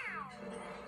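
A short, faint cat meow from the cat suit power-up in Super Mario 3D World, a single descending yowl lasting under a second.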